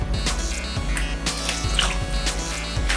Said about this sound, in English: Next, we're adding in the melted butter.